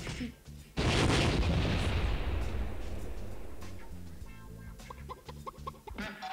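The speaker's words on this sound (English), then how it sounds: "That explosive sound means you just won" Explosion sound effect from a dynamite board game, a sudden loud boom that decays slowly over several seconds, followed by scattered quieter clatter and faint sounds.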